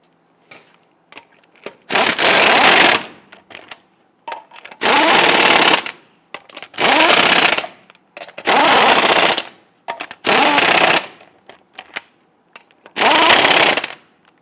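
A power impact tool snugs lug nuts onto the wheel of a 2000-2006 Toyota Tundra, loud rattling bursts of about a second each, six in a row separated by short pauses.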